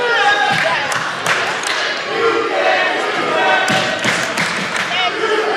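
A basketball is bounced on a hardwood court during a girls' high school game, its thuds mixed into loud gym crowd noise and shoe squeaks, with a commentator talking over the action.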